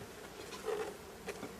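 Honeybees buzz around a hive during a honey harvest as a bee escape board is fitted, a faint, brief hum with a couple of bees passing close.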